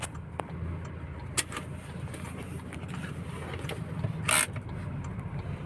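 Idling engine of a 2019 Toyota Hilux with a noisy engine and a charging fault, a steady low rumble with a few short clicks and knocks over it, heard from close by.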